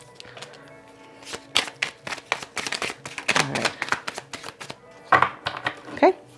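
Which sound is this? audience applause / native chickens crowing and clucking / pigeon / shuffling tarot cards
shuffling tarot cards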